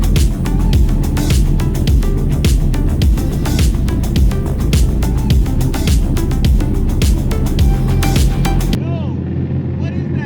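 TVR sports car with a custom exhaust, loud engine rumble close by with rapid irregular popping and crackling throughout, then cutting off abruptly near the end; a voice is faintly audible.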